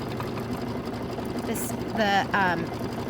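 An embroidery machine sewing a satin stitch on an ice cream cone design hums with steady rapid needle chatter, while a brief voice or tonal sound rises over it near the end.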